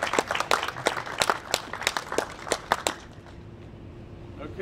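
A group of people claps together at a medical center gathering, producing a few seconds of scattered, fairly close hand claps that fade out into quiet room tone.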